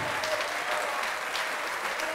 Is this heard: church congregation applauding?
yes